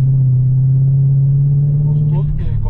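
A Mercedes-Benz C63 AMG sedan with a naturally aspirated 6.2 V8 in Stage 2 tune drones loudly from inside the cabin, a steady deep engine tone holding while the car pulls, with faint road noise near the end.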